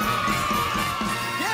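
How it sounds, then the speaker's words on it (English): Audience at a talent competition cheering and clapping, a loud burst of excited crowd noise with whoops and children's shouts, close and continuous. "Yes, keep your applause going"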